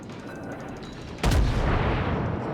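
Heavy naval guns fire in World of Warships during a battle against a Kongo-class battleship, one loud booming salvo cutting in abruptly over steady engine and ambient rumble, then a sustained rolling roar.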